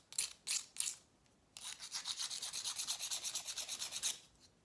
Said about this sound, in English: I just want to see how it did if you sanded it